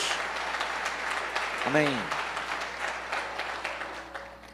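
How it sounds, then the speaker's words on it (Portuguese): A church congregation applauds during a service, with dense, continuous clapping throughout and voices calling out over it. "Pode aplaudir Jesus."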